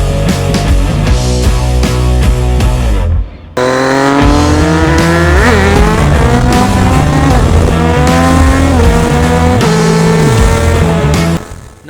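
A motorcycle engine is revved hard near the mic and climbs through sharp rising pitches during a clutch-up wheelie, with a brief cut and then a loud sustained high-revving run, and no talking.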